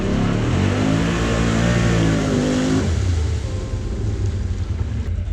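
A Can-Am Outlander XXC 1000R off-road vehicle engine roars loudly and steadily at close range, revving high at first and then settling to a lower rumble, with wind noise over it.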